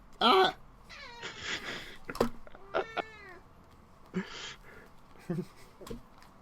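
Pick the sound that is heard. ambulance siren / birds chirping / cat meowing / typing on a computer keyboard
cat meowing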